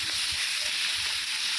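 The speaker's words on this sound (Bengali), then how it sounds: "তাওয়াতে একটু তেল গরম করে মাছগুলো এক করে দিয়ে দেবো" Rohu fish pieces fry in hot oil on a tawa, giving a steady, close, loud sizzling hiss that holds without a break and has no talk over it.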